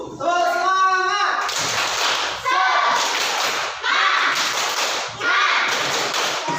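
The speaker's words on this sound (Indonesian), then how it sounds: "kita tepuk semangat dulu. Tepuk semangat." A teacher leads a class in rhythmic spirit clapping: loud, close bursts of many hands slap out in repeated patterned groups with short pauses between them, after a brief voice at the start.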